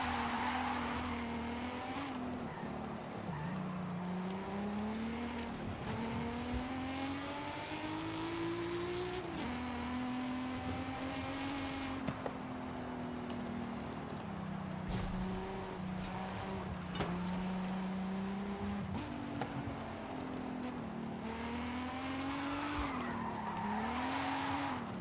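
A Nissan Skyline R32 GTR climbs an uphill road with its engine revving hard through rising and falling gears while tires squeal and skid in long stretches, loud and continuous throughout, with no talking.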